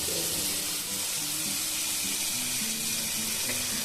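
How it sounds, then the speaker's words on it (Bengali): Water left from rinsing spices, a mixer and meat pours into a pan of fried onions for a spicy chicken dish, making a loud, continuous rushing hiss and sizzle close by, with no talking. "এখানে যে মশলা ধোয়া জল ছিল, আমি যে মিক্সি ধোয়া বা মাংসের যে লেগেছিল সেই জল দিয়ে দিলাম"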